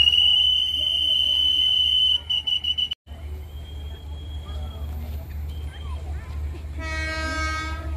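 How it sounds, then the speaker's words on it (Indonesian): A commuter train approaches from behind near Parung Panjang, a low rumble with a loud horn blast, then brief whistle-like squeals as it draws nearer while people talk over it. "Gua ada kereta dari belakang saya, dari arah Parung Panjang."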